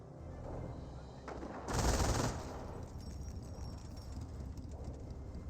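Rifle fire from a Scope Rifle squad in Company of Heroes: a steady background of distant battlefield shots, with one louder, sharper burst partway through.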